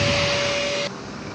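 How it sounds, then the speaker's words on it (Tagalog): A steady, loud rush of air from a blower clearing old oil during a Yamaha Aerox V2 oil change, with a faint whine that cuts off, leaving a lower continuous hum. "Siyempre meron tayong blower."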